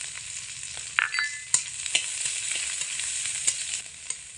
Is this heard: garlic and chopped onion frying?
yes